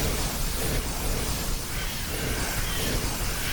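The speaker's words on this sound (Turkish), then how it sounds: "Büyünün çarptığı yaratıkta patlama efekti oluyor bakın." A fantasy RPG spell striking a creature sets off a loud, sustained explosion effect, a dense roaring blast that fills the whole stretch without pause, with no talking over it.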